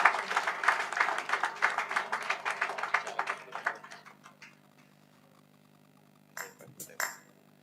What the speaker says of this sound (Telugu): చప్పట్లు కొట్టాలి గట్టిగా